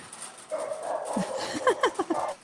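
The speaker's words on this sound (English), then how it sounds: "my dog started barking because he heard that" A pet dog barks and yips several times in quick succession indoors, excited by a car in a parking lot, with short sharp bursts growing louder toward the end, preceded by a faint whine.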